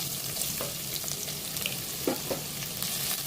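Thinly sliced onions fry in oil with cardamom, cinnamon and cloves, giving a steady, moderate sizzle with scattered crackles and occasional stirring scrapes, close and with no voices.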